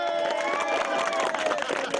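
A home crowd gathered out front cheers and shouts for a boy after each game he wins, a dense, steady roar of voices with whistles running throughout.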